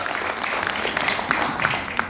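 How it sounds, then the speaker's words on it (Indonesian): Audience applause at an Indonesian business seminar, a steady, fairly dense round of clapping from a crowd filling the whole moment with a few sharper claps standing out. "Tepuk tangan untuk kita semuanya."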